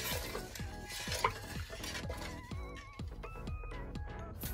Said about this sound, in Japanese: Cook over medium heat and stir to prevent burning.